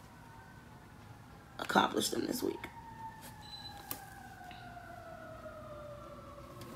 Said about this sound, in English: And that noise is an ambulance.